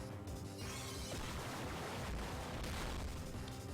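Aegislash's Flash Cannon attack in the Pokémon Omega Ruby/Alpha Sapphire video game erupts as a dense, roaring blast of booming, crashing energy that fills several seconds steadily and loudly, with no speech over it.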